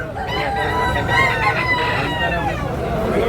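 A rooster at the Tabunok poultry market in Cebu gives a full, drawn-out crow, near and loud, over continuous crowd babble and market noise.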